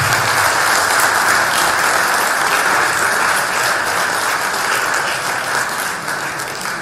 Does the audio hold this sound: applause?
yes